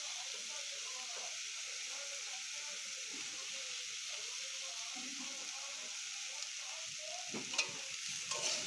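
Snake gourd and potato curry with turmeric and salt sautéing in a pan, a soft, even sizzle with faint stirring and a couple of small clinks near the end, quiet throughout.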